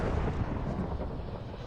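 A loud, sustained explosion rumble from a Naruto ShinobiCraft Minecraft mod fight, a continuous low roar filling the whole moment with no voices over it.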